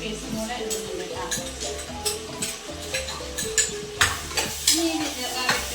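Ginger garlic paste and green chilies sauté in a pan, a steady sizzle broken by repeated scraping stirs and light clinks of utensil against metal, with background music and occasional talk.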